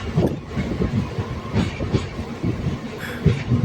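Train running near Deesa railway station on the Gandhidham to Palanpur route, close rumbling with rhythmic clickety-clack of wheels over rail joints, loud and continuous.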